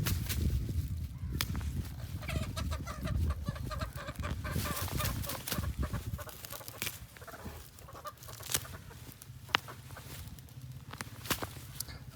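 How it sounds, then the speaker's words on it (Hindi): Farm chickens cluck and call near a feeding spot, with repeated short clucks and scratchy footsteps over a low steady background, close and busy for the whole stretch. "चिक्स आ गए माशाल्लाह खाने के लिए"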